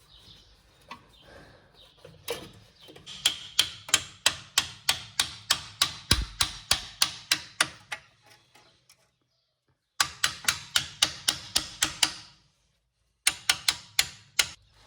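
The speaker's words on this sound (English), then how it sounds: "You will need a hammer to put it in place." Sharp metallic hammer strikes land in quick, even bursts, close and loud, with short pauses between the runs of blows, hammering a wheel bearing part into place on a VW Transporter T5.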